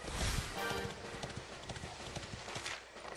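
Rapid hollow clip-clop of horse hooves trotting close by in the video game Dragon Quest XI, steady and rhythmic, with a brief whinny-like texture early on.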